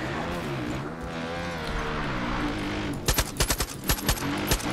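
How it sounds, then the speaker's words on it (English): Gunfire in the video game Far Cry 5, a quick burst of about ten sharp rapid shots near the end after a stretch of engine-like game rumble. "Let me try shooting."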